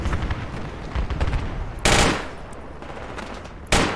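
Gunfire in the video game Squad: a soft stream of distant rapid shots, broken by two louder, closer bursts, with no voices.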